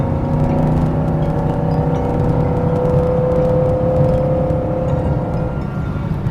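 Engine of a 1973 Porsche 911 2.7 RS hot rod heard from inside while cruising at moderate speed, a loud continuous hum and whir holding mostly steady for several seconds, easing off slightly near the end, no talk.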